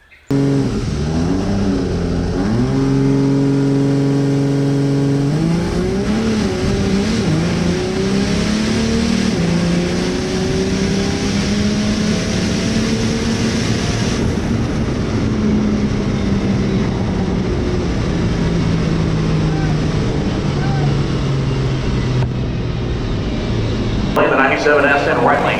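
A Cummins diesel drag truck makes a quarter-mile pass, its engine loud and close, climbing through repeated rising revs with gear changes before a long sustained pull that fades off near the end.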